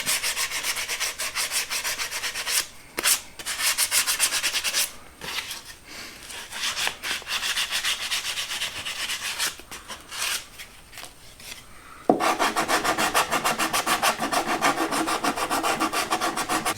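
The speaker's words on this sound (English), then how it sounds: "we just want to take some sandpaper and just kind of clean up our rounded edges a little bit" Rounded wood edges of a homemade zero-clearance table saw throat plate being sanded by hand with sandpaper, a steady close rasping rub in uneven strokes that shifts to faster, brighter strokes near the end.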